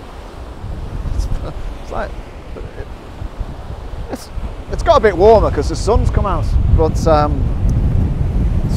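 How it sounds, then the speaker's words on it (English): Strong wind blows along the Welsh coast beside the sea, roaring and buffeting the microphone steadily, while someone talks over it. "still as windy as hell."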